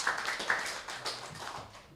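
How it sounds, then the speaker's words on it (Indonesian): A church congregation claps for God during a service, a brief burst of close applause with a few sharper claps up front that fades over two seconds, without talk. "Berikan tepuk tangan buat Tuhan."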